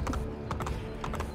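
Rapid clip-clop of horse hooves trotting steadily in Assassin's Creed: Brotherhood on PS5, close and fairly loud, in an even galloping rhythm with no voices.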